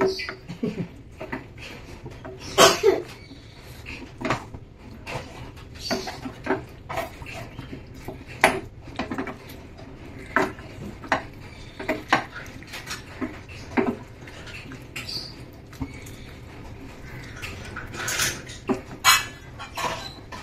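A spoon stirs potatoes into Goan green beef curry in a metal pot, with repeated clanks and scraping knocks at an uneven pace over about twenty seconds, close up and moderately loud, no talking.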